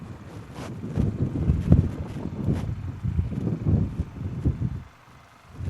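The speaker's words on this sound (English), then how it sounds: "Certainly a challenging day for both teams given the windy conditions. Gusts are upwards of 30 miles an hour." Strong gusty wind buffets an outdoor microphone at a Dallas Roughnecks versus Raleigh Flyers ultimate frisbee game, with gusts upwards of 30 miles an hour, as low rumbling surges that rise and fall, then ease near the end.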